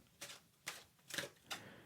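Playing cards shuffled during a tarot reading: four quick riffling bursts at a steady rhythm, close and fairly soft, with no voices.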